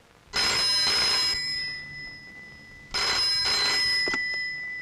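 A telephone in a Bollywood film scene rings in two loud, close, trilling bursts with a pause between them and no talk over the rings.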